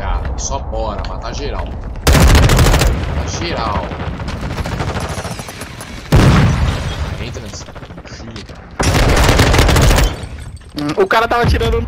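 Loud bursts of automatic gunfire in the video game Call of Duty Modern Warfare 2 erupt three times in a large 32-versus-32 battle, each volley sharp and close, separated by stretches of quieter game noise and speech.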